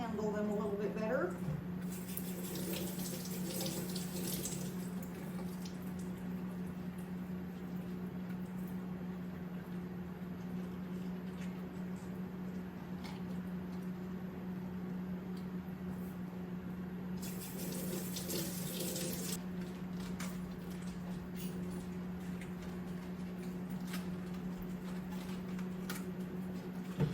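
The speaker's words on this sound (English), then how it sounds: "Running it under some cool water so I can handle them a little bit better." Cool tap water runs steadily into a kitchen sink over peeled cabbage leaves, a constant close splashing hiss with brief louder gushes, while a person talks over it.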